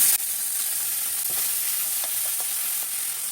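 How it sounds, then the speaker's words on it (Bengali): Ground cumin paste hits hot oil and sizzles, a steady bright frying hiss with light crackles and faint stirring taps throughout. "বন্ধুরা তেলের মধ্যে এখন দিয়ে দিচ্ছি জিরা বাটা,"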